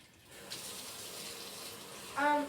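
Warm water runs from a kitchen tap into a bowl while mixing a double-layered chocolate cake, a steady close splashing stream that swells louder near the end, with no talk.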